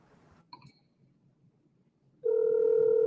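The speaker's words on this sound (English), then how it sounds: "Can y'all hear my phone ring?" A phone rings out on a call: a few faint clicks first, then a loud, steady electronic ringback tone that starts abruptly and holds for the last second.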